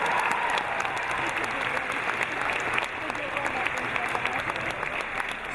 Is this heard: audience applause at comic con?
yes